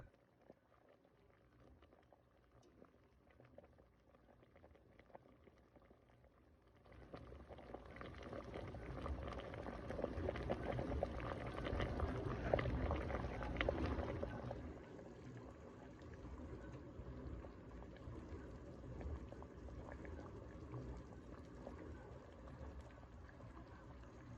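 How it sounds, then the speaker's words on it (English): A pot of vegetable broth with garlic comes to a boil, quiet bubbling at first, then a louder rolling boil for several seconds before settling into a steady, softer simmering hiss. "So just going to bring that to a boil, put it down to simmer, and veggie broth will be ready to jar up"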